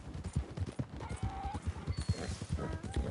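Galloping horse hooves clip-clop in a rapid steady rhythm in the video game Red Dead Redemption 2, with a brief whinny mixed in and a busy game soundscape around it.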